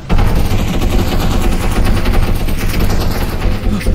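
Turret gunfire in the video game Content Warning, a loud, sustained rapid-fire burst of automatic shots that fills the whole stretch without a break.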